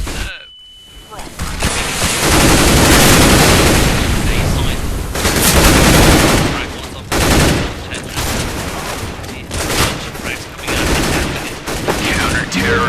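Submachine gun fire in the competitive Counter-Strike: Global Offensive match, loud dense bursts of shots and game noise filling most of the span, with a caster talking over it.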